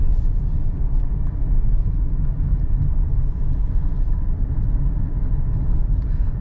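Inside a Mahindra XUV700 moving through traffic, a steady low road and engine rumble holds continuously, with no clear change in pitch as it speeds up.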